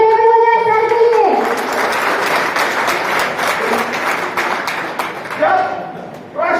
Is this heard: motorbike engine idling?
no